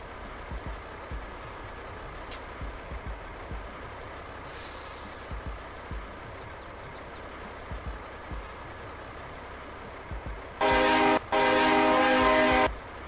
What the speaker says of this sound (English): Horn's a little obnoxious, but that's okay.